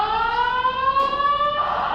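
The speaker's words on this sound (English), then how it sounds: "you can hear and see the alarms going off." Apartment building fire alarm sounding continuously, a loud steady electronic tone with layered harmonics that shifts slightly in pitch, close and alone with no talk.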